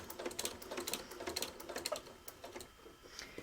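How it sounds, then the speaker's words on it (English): A sewing machine stitches over quilt binding on a small quilted Valentine project, making a quiet, rapid mechanical clatter that comes and goes at an uneven pace. The sound is close and faint, with no talking. "Go ahead and put my presser foot down. Go over the binding."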